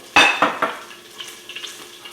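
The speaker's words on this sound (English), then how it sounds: "just a little bit more of the olive oil there so I can get a good saute" Olive oil being added to a hot pan for sautéing, a few quick crackling bursts of sizzle with light utensil clinks that soon settle into a faint, sputtering hiss.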